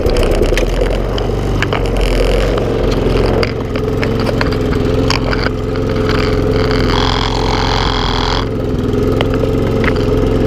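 Briggs and Stratton lawnmower engine running steadily, a loud close chugging drone with a rattling texture and a brief rise in pitch midway, no voices.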